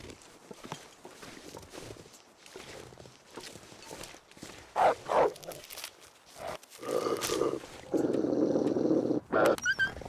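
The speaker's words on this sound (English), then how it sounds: "You can hear the wolf." Wolf growling in the survival video game The Long Dark, heard after soft crunching footsteps; rough, rumbling growls come in short bursts and then swell into a steady, louder snarl near the end.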